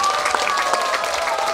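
Brief burst of crowd applause at the 2019 Geumsan Ginseng Festival during a pumba street performance, clapping mixed with background crowd noise and a steady tonal hum.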